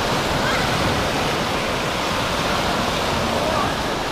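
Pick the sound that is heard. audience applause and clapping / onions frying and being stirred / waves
waves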